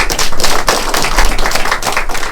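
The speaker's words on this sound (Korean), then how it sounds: "박수 한번 쳐주세요" Audience members at a forum on past-history legislation, held by a bereaved families' association, clap to welcome a speaker, with close, loud, uneven claps in a brief burst.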